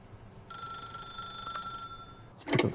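A telephone rings in The Stanley Parable video game with a steady electronic trill that lasts about a second and a half. It is followed by a short, louder rustling clatter.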